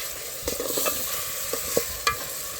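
Prawns cooking in a tomato gravy are stirred in a pan with a steady low sizzle. A few distinct scrapes and knocks of the spoon rise above it, and no one speaks.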